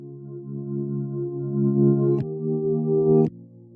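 Electric piano in FL Studio holds sustained mellow chords that shift twice, warm and close with a soft tremolo-like pulse and no talking.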